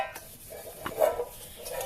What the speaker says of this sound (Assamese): ই কেনেকৈ তিনি মানুহৰ দৰে বাচন ধুৱাই দেখ।